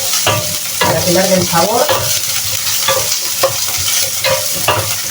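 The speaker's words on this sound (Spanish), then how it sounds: "Freímos bien" Meat sofrito for a fideuà frying hard in a pan, loud bubbling sizzle with stirring scrapes, while a person talks over it briefly.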